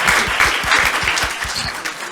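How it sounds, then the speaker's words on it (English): A panel-discussion audience on global security applauds the panelists, with close, brisk clapping from many hands and a few prominent individual claps over the brief burst. "Let's give a round of applause"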